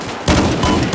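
Loud burst of rapid gunfire in the video game Battlefield 4, starting suddenly after a short pause and continuing as dense, close shots.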